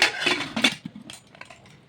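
A pressure cooker lid is fitted and locked shut over a pot of mixed vegetables for pav bhaji, giving a few close metallic clanks and scrapes followed by softer taps, brief and without voices.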